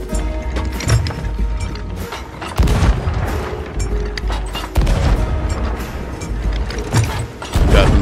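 Ship cannons fire in a Sea of Thieves naval battle, a run of heavy booms at irregular intervals, several loud blasts over continuous game noise, with no talk.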